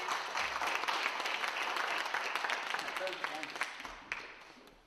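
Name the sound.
audience applauding team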